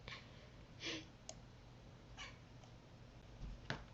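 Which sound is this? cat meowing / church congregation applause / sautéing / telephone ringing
cat meowing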